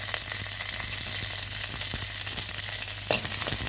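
Curry leaves and dried red chillies fry in hot oil for a whole chicken dish, giving a loud, steady sizzle with occasional sharp crackles and pops, close up and without talk.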